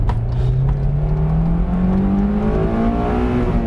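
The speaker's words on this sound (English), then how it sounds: "Scare them away with the sound of the S2000" A 2008 Honda S2000 CR Club Racer roadster engine revs steadily while driving at low speed, a loud, continuous close engine note rising gradually in pitch throughout.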